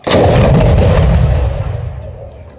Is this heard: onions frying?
no